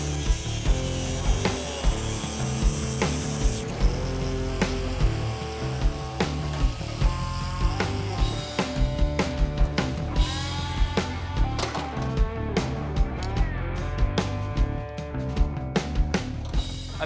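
Metal tubing on a vintage dune buggy chassis is cut in a garage, with loud, continuous, rhythmic rasping strokes close by.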